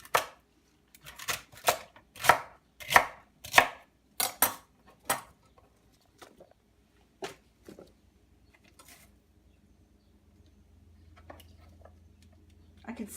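Kitchen knife chopping celery sticks on a cutting board for green juice, a run of about a dozen crisp, evenly spaced chops that slow and fade into quiet room noise.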